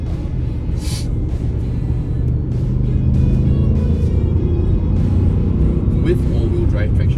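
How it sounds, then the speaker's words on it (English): Audi SQ8 SUV engine hums steadily while driving through bends, a low continuous rumble under close talking throughout. "Very, very good sounding car. Wonderful sounding car."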